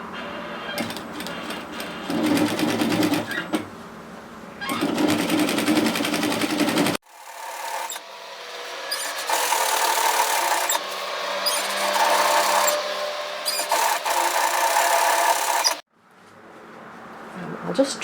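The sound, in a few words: sewing machine sewing binding tape onto a dress neckline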